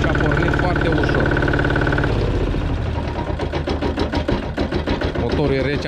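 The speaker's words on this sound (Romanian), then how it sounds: "Motorul e rece, abia acum l-am pornit, l-am scos de acolo. Uitați-vă și voi ce fel își ține relantiu." The cold engine of a Goldoni Joker 8DS two-wheel tractor idles with a steady mechanical chug, just after starting. Someone talks over it as the engine continues beneath his voice.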